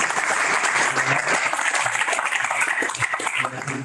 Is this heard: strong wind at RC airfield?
no